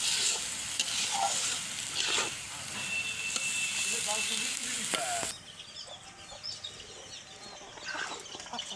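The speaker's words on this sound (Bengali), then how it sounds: "তার জন্য চালটা মানে ভেজে নেবো ভালো করে" Rice fries in a pan for white pulao, village style, with a steady sizzle and scraping stirring strokes. A voice talks over the cooking, and the frying sounds softer toward the end.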